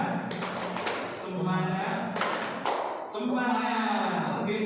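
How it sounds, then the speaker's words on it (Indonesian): A group in a training session doing a rhythmic 'tepuk semangat' cheer, patterned bursts of hand claps alternating with voices chanting along. "Tepuk semangat."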